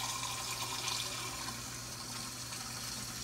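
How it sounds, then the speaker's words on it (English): Water poured from a container into a pot of browning oxtails, a steady continuous splashing and trickling pour, close and fairly quiet, with no talking. "let me get my thing here with water. And we're gonna add water to this."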